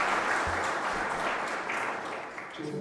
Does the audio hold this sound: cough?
no